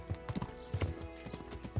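A horse's hooves clip-clop in the medieval video game Kingdom Come: Deliverance, an uneven run of sharp, close hoof strikes at a brisk walking pace, with no talk over them.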